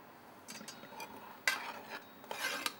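A spoon stirs and scrapes in a pan, mixing sugar into a bitter gourd curry, with a few soft clinks and scraping strokes, faint and close, with no talking.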